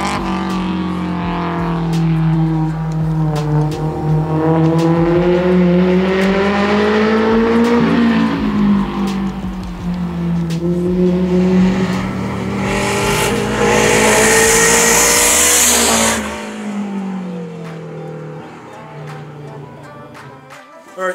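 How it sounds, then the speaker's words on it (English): Turbocharged Honda S2000 with an F20C engine lapping a race track, engine revving up and down through gears with rising and falling pitch, close and loud, a hiss of turbo or wind near the end before the engine drops away. "we just got finished testing out the S2000 with the turbo."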